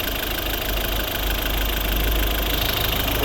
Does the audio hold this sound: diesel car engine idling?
yes